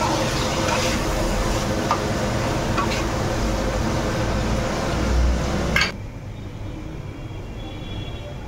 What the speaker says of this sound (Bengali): এই যে এখানে গাজর গাজর আর বিট একসাথে ভাজা করছি